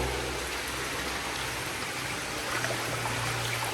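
Spring water runs steadily in a Japanese bathhouse in Yokohama, a continuous splashing trickle heard close and fairly loud throughout, with a low hum underneath and no talking.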